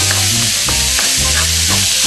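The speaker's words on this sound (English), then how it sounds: "Into the pan. We're going to cook that until the beef is brown." Garlic, ginger and chopped serrano or jalapeño peppers frying with ground beef for keema aloo, a loud, close, continuous sizzle broken by rhythmic stirring scrapes.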